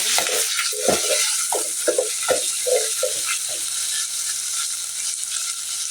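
Onions frying with ginger garlic paste in a pan for a pangas fish bhuna, a constant close hiss of oil under a series of soft stirring scrapes that fade out toward the end.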